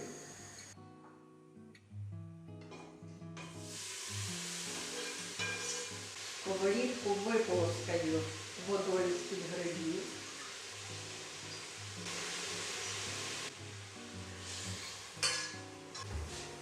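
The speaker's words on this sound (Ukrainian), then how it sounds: "додаю трішки олії, викладаю тушковане м'ясо, бочок, моркву, цибулю, чорнослив та гриби" Stewed meat, bacon, carrots, onion, prunes and mushrooms fry in a little oil in a pan, making a continuous, close hiss and crackle with occasional stirring clatter, and a voice speaks over it in places.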